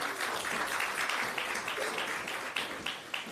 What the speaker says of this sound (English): ladies and gentlemen, another big round of applause for